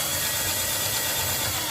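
A power drill running steadily to tighten the set screws while a two-gang outlet is installed, a loud continuous whir with no pauses and no talk.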